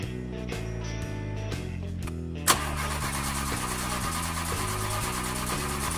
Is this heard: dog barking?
no